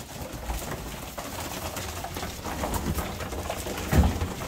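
Young pigeons cooing in a loft, a low steady murmur of several birds with soft overlapping calls and a slightly louder coo near the end, no speech.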